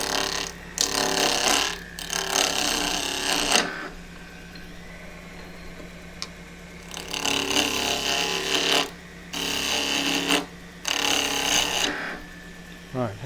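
A small bark-rim bowl spinning on a wood lathe at high speed, with bursts of tool cutting that start and stop over a steady motor hum.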